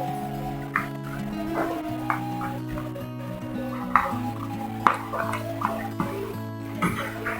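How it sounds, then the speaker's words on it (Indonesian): Shrimp drops into a pot of bubbling coconut curry broth for a Padang-style long bean and shrimp gulai, with wet gurgles and small splashes over a steady tonal background hum. "Sebelum masukin kacang kita masukin udangnya dulu"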